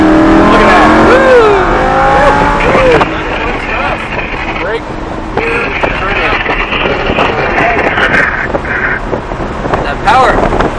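Lamborghini Huracan LP610-4 accelerating hard around Summit Point Motorsports Park, a loud rising engine roar with wind buffeting from inside the cabin while people talk over it.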